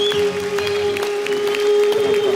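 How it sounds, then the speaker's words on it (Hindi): Studio audience on a Hindi comedy talk show applauds to welcome actress Leena Chandavarkar and Sumit Kumar, a steady crowd clapping under a sustained musical tone. "जोरदार तालियां हो जाए।"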